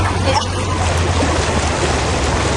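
Strong current and waves of a river at Daraitan surge in a steady, loud wash with a low rumble, close by and continuous, with no voices.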